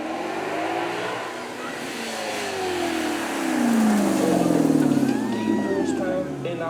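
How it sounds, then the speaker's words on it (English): A Maserati V8 at a supercar weekend revs up, its engine note climbing in pitch and swelling louder near the end, with a voice talking over it. "Let's have a listen to our beautiful Maserati"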